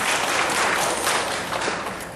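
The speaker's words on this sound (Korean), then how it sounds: "박수 치시려고 하나 계시죠?" A church congregation claps together in a short, dense burst of applause that stays steady and fairly loud throughout, with no voices over it.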